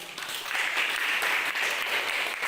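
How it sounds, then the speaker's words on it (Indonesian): A classroom of students gives a fellow student a round of applause, a faint, even patter of clapping that holds steadily for a couple of seconds and then stops abruptly. "Tepuk tangan untuk adik."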